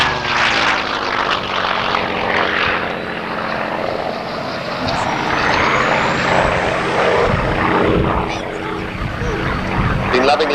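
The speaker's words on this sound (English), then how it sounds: "this Daimler-Benz engine, which really sounds quite different. And this is a genuine Daimler-Benz engined" A genuine Daimler-Benz-engined Messerschmitt ME-109 owned by the RAF flies at the RAF Honington airshow in June 1992, its piston engine droning loud and steady with a rising, shifting pitch as it passes, under an announcer's commentary.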